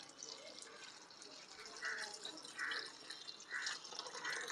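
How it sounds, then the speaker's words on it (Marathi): Water poured into a pot of medium-cut cauliflower, a faint, steady splashing trickle with soft gurgling swells, heard alone at close range. "आणि आता ह्याच्यामध्ये पाणी घालून घ्यायचं आहे।"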